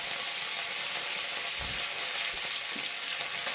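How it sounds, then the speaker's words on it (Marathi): Mustard seeds, cumin and curry leaves frying in hot oil for a Maharashtrian amti tempering make a dense, continuous sizzle with a few soft stirring knocks, close and fairly loud, with no speech. "जिरे तेलामध्ये फुलले की त्यानंतर कडीपत्त्याची पाने घालून घेऊया"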